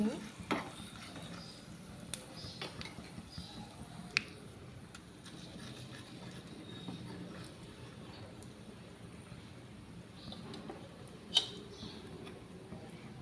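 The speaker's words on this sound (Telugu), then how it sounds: "మంచిగా పోపు అంతా వేయించుకోవాలండి ఇవన్నీ" Spices tempering in hot oil for a tomato rasam, with dried red chilli and peppercorns; a quiet, steady low sizzle with light stirring clicks and occasional small pops throughout.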